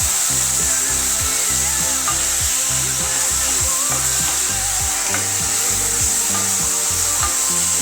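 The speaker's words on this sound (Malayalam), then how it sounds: "പൈനാപ്പിൾ ചേർത്ത് നന്നായിട്ടൊന്ന് മിക്സ് ചെയ്തെടുക്കുന്നുണ്ട്" Chopped raw pineapple stirred into a Kerala-style thoran stir fry, with steady scraping and knocking of a spoon against the pan over a constant frying hiss, close and continuous, no talking.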